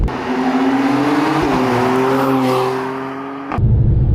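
A tuned 460 bhp 2020 Mercedes-AMG C43 coupe with all-wheel drive pulls hard out of a corner, its engine droning in a steady, rising pitch up close before a sudden shift in tone near the end.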